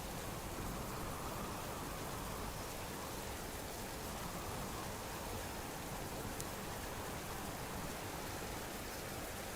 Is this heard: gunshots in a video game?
no